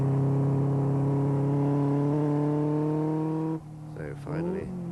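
A Caterham 7 sports car engine drones steadily round a circuit in second and third gear, a loud harmonic hum. It shifts and changes pitch near the end, with some voice-like sound over it.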